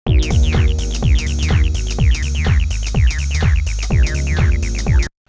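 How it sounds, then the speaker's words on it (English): A lo-fi house track plays with punchy, pulsing bass hits and bright synth stabs, its sound thick and gritty as if driven through dynamic tube saturation during mastering. "I just did this dynamic tube, which sounds like this."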